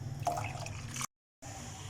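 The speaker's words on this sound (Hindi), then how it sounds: "इसके अंदर जो है वो हम पानी ऐड कर देंगे 1 गिलास" Water is poured into a pot of tamarind chutney mixture on the stove, giving soft splashing and dripping. It is faint and close, with a brief silent gap in the middle.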